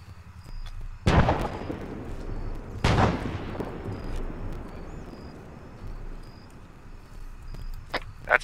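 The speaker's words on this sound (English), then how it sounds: "That's mortars on the blue compound there." Mortar fire in a military video game, two heavy impacts a couple of seconds apart followed by long rumbling decay, with a faint sharper crack at the very end over quiet ambience.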